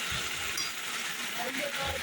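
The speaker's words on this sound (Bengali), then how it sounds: "এই যে আলু ভাজাটা বসিয়ে দিয়েছি" Potatoes fry in a pan with a steady, soft sizzling hiss throughout, close and fairly even, with faint background murmur but no clear talking.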